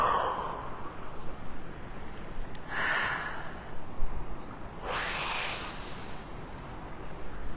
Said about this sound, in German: machst deine Lungen so richtig voll Luft. Haltest es drin, 3, 4, 5 Sekunden, ausatmen.